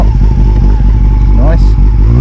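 A Honda CB400 Super Four motorcycle engine fires up from cold without choke, a loud, close idle rumble with a brief rev, while a person speaks over it.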